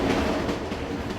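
A train rolling along the rails, a steady rumbling and clattering wash of noise, fairly loud and continuous with no voices.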